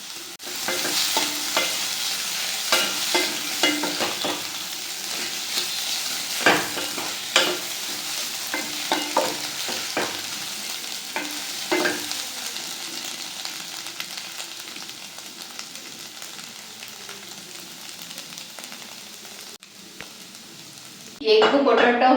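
Potato egg fry sizzling in a pan and stirred with a utensil: steady frying hiss with repeated scraping strokes, easing toward the end before a brief louder burst.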